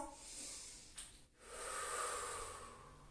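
Slow, steady breathing during a yoga stretch: soft, airy breaths close by, with a brief pause between an exhale and the next long inhale, quiet and alone.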